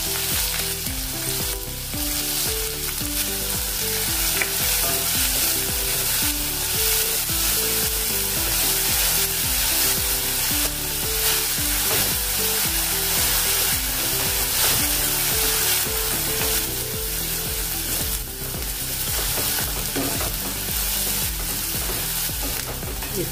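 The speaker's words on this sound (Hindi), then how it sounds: "इसको कलर आने तक भुनेंगे।" Chopped onions frying with cumin in hot oil for a one-pot pulav: a loud, dense, continuous sizzle close up, with occasional stirring, under steady background music.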